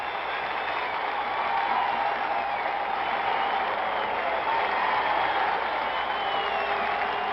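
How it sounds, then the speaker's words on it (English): Standing ovation from a sellout crowd at the new Madison Square Garden as the Knicks captain appears for Game 7 of the 1970 NBA Finals: a continuous, dense roar of clapping and cheering, steady in loudness for the whole stretch. "It's a standing ovation at the new Madison Square Garden"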